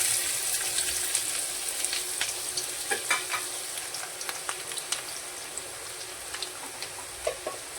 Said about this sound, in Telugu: ఇప్పుడు నూనె వేడైపోయిందండి. ఇందులో ఆనియన్స్ వేసుకుందాం.